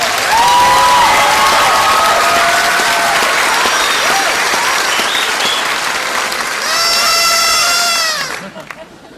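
A crowd at a Mountain Education Center high school graduation gives the graduating group sustained clapping with scattered cheers and whoops, steady and loud for about eight seconds before quickly dying away.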